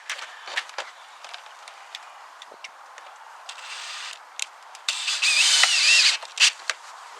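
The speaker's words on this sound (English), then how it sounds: "we'll just put a temporary screws in here" A screw gun drives temporary screws into vinyl mobile home skirting: scattered clicks and handling noise, then one sustained, close whirring burst of the driver spinning in, followed by a couple of sharp knocks.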